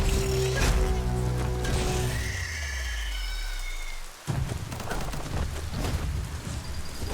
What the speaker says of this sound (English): At least the rain doesn't burn too bad.